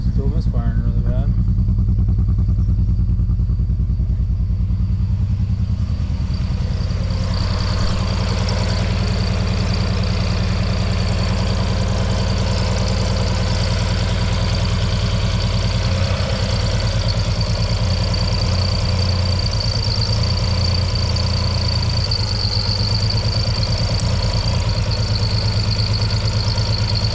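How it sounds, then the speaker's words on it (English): An Audi Avant engine idles roughly with a loud, uneven misfire, its lumpy low rumble and stumbling beat running continuously and close up while a person talks intermittently over it. "It's misfiring really bad."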